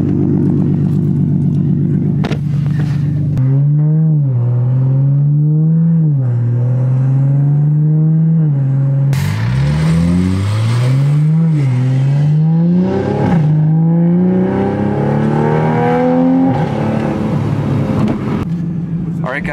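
A Toyota MK5 Supra engine revs in a series of loud, rising and falling blips, then holds a longer climbing rev before easing back, heard close up with no talking.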